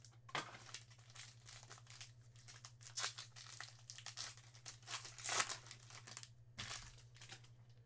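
A cardboard hobby box of 2021 Bowman Sterling baseball cards is torn open along its perforated cut line, giving close, continuous crinkling and ripping over a steady low hum, with no talking.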